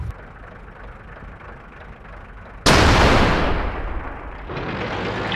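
A single booming tank cannon shot in World of Tanks during a clan wars battle, fired loud and close after a quiet engine hum, its blast ringing out into a sustained roar.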